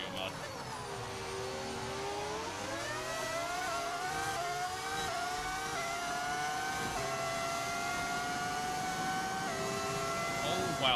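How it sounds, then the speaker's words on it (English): A V10 engine sound mod on a Formula 1 car in the F1 25 racing game screams at high revs, rising and shifting through gears in a continuous whine, with a voice talking over it. "Sound of the car mod? Yes, it is. It's a V10 audio mod."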